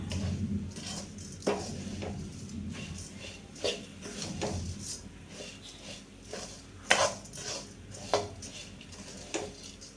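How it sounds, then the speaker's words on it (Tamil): Karthigai pori, puffed rice mixed with ghee and jaggery, stirred in a pan, heard as soft rustling with intermittent scraping and clinking knocks of a utensil against the pan, close and fairly quiet. "இப்போ நல்லா கிண்டிடலாம்"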